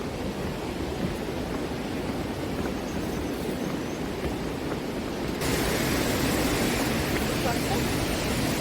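A mountain waterfall at Dutasan rushes in the rain, a dense, steady roar of falling water that swells louder partway through as it is approached.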